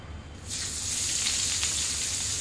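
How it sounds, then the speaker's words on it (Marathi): Chopped onions hit hot oil for a cashew masala curry and break into a loud, steady hiss of frying that begins abruptly and holds evenly, close to the pan with no talk over it. "आपण हे जे कापून घेतलेले कांदे आहेत ते घालून घेऊया"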